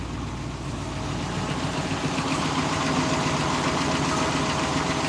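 A classic Ford car engine runs steadily at idle, a continuous close rumble with a faint mechanical tick and vibration throughout, no voices over it.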